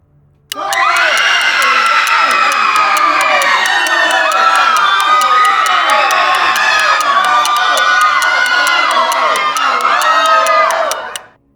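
A large crowd shouts and screams in terror continuously at high pitch, a dense, loud mix of many voices, including children, that cuts off abruptly.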